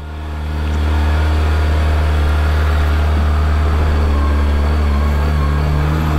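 A 2023 Kawasaki ZX25RR motorcycle engine holds at around 2000 rpm, a loud, close, steady drone that swells in over the first second and then stays even, with no voices.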